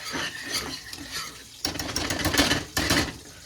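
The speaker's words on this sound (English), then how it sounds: "now we stir, stir, stir." Scraping and clattering of a spoon stirring a thickening, doughy mixture in a pan while cooking chicken fried steak, with bursts of louder scraping strokes near and no talking.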